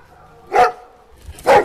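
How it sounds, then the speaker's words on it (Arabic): A female dog barks twice in quick succession, sharp and close, with a short quiet gap between the two barks. "شد الكلبة يا حاج."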